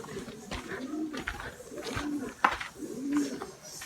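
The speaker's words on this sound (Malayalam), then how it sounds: "പ്രാവിന്റെ സൗണ്ട്, വവ്വാലിന്റെ സൗണ്ട്." Pigeons coo in a low, throaty roll, three soft calls spaced about a second apart, echoing in a sheltered spot in Hyderabad where bats also roost, with faint background noise around them.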